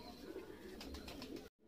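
Soft pigeon coos murmur faintly in a short low burst amid quiet background noise, then the sound cuts off abruptly.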